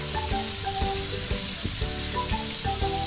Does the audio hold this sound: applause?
no